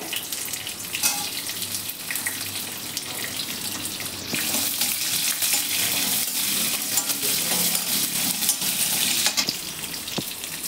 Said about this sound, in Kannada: ಇಷ್ಟನ್ನು ಹಾಕ್ಕೊಂಡು ಸ್ವಲ್ಪ ಫ್ರೈ ಮಾಡ್ಕೋಬೇಕು